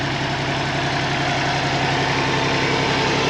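A New Holland Workmaster 25s tractor engine idles steadily with a low, even diesel rumble and slight knocking vibration, loud and close with no talk.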